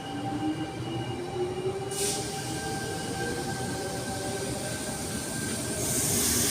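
A Sydney Tangara train, a T31 set leading a service to Bondi Junction, runs through Sydenham station with a steady rolling rumble and drawn-out wheel squeal, close by and continuous, with no voices.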